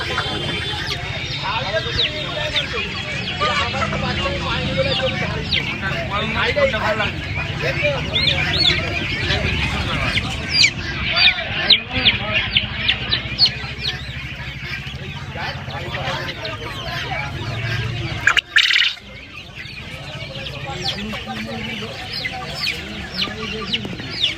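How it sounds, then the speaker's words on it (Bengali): Sonali desi chickens cluck and squawk in a dense, continuous chorus at a busy Uluberia poultry market, with people talking throughout over steady crowd noise. "এখানে দেখতে পাচ্ছেন সোনালি দেশি মুরগি আছে"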